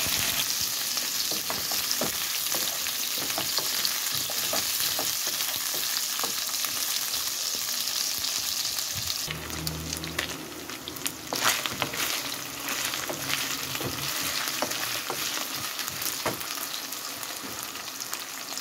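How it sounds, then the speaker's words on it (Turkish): Sliced onions go into already-fried meat in a pan and set off a loud, continuous sizzle. Stirring scrapes through it, the pitch shifts briefly as the onions land, and the frying roar carries on steadily with no voices. "Kızarmış etimizin üstüne soğanlarımızı ekleyelim"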